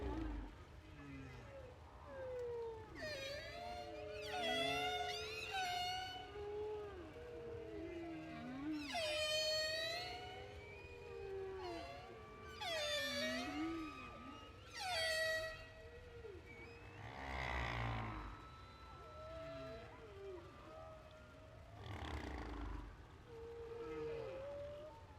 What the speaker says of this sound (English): The sounds that these whales make are made by males only.